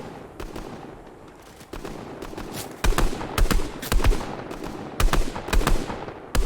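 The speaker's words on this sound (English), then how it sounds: "Someone shooting at me." Fortnite gunfire cracks out in loud, close bursts: a few scattered shots at first, then rapid clusters of repeated reports that grow heavier toward the end, with no voices over them.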